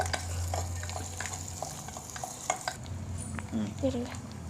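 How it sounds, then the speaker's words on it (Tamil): Onions sauté in a clay pot while soy chunks are being prepared, giving a soft, close crackle with scattered scrapes of a spoon against the pot and a low hum underneath. A few faint clinks come near the end. "வெங்காயம் நல்லா வணங்கிட்டு இருக்கு"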